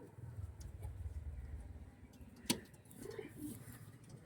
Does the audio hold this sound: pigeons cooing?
yes